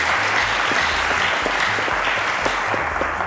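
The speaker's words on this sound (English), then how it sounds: "A round of applause to Edo, ladies and gentlemen." A studio audience on the Cowbellpedia secondary-school quiz show applauds a contestant with loud, dense, sustained clapping, and a low musical tone pulses underneath.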